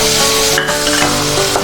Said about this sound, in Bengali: হলুদ গুঁড়ো দিয়ে দিলাম, দিয়ে নেড়ে নিলাম।